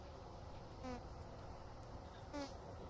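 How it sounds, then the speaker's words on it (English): Bees buzzing around a field in the video game Vintage Story, a steady low insect drone with two brief, slightly louder passes as bees fly close by. "All the bees."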